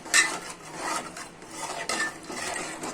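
A spoon scrapes and clinks round a bowl as yogurt is stirred into raw chicken, several quick rhythmic strokes close up.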